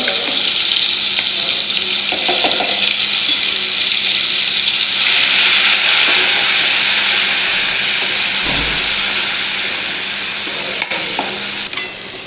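Spiced masala sizzles and fries steadily in hot oil in a kadhai for patwadi curry, a close continuous hiss with occasional stirring scrapes and a brief thud near the end.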